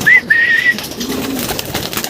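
Young racing pigeons returning to the loft, with a close, clear cooing call at the start followed by quieter rustling and soft bird sounds.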